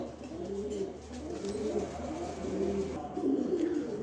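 Pet pigeons coo close by in soft, repeated throaty rolls, with several birds overlapping in a steady, murmuring rhythm.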